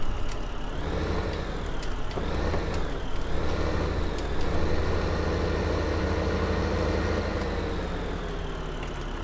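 A vehicle engine drives along in Farming Simulator 2015, a steady, loud low-pitched rumble with a constant hum that wavers slightly in pitch as it runs, continuous and unaccompanied for the whole stretch.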